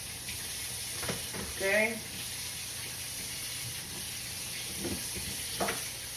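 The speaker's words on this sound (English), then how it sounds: "Let's just go in with both sticks of that chorizo" Two sticks of chorizo frying in a pan give a steady, close sizzling hiss throughout, with brief stirring scrapes and a short spoken word partway through.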